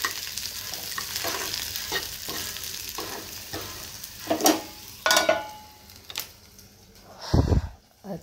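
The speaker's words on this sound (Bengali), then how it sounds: "ওই জিরে আর পেঁয়াজ ফোড়ন দিয়ে এখন আলু ভেন্ডিটা ভেজে নিচ্ছি।" Potatoes and okra frying in a pan with cumin and onion, a continuous close sizzle broken by several scraping stirs, one louder thump near the end and faint bird coos in the background.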